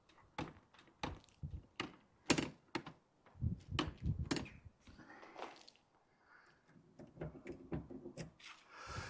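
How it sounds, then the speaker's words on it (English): A stuck door latch is tried over and over, giving sharp wooden clunks, rattles and rubbing knocks in irregular bursts close by, with quieter fumbling between the jolts. "it feels like that latch is stuck"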